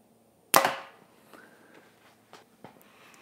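A compound bow is shot during a speed test, giving a single sharp snap and thwack of release followed by a fading decay, then a few faint clicks and handling noises.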